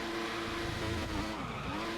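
Race car in the F1 2014 video game braking hard into turn one: a sustained engine whine with a steady tonal line and tyre squeal, loud and continuous for two seconds with no talk.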